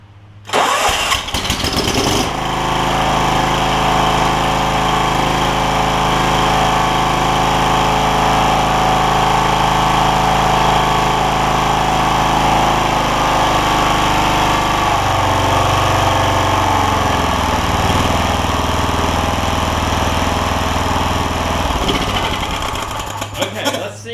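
A John Deere LX172 lawn tractor with a Kawasaki FC420V engine cranks, catches and runs at a loud, steady idle for about twenty seconds, with a shift in tone partway through before it cuts off.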